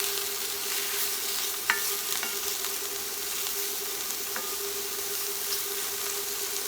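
Pork stir fry with mushrooms sizzles steadily in a pan while a utensil stirs it, with a few sharp scrapes and clinks over the continuous frying hiss, close and moderately loud.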